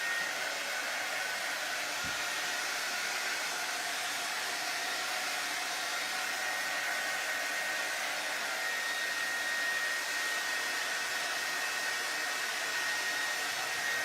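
Hair dryer blowing steadily on wet paint over a stretched canvas for a faux farmhouse wood sign, a constant close, loud airy whoosh that runs unbroken throughout.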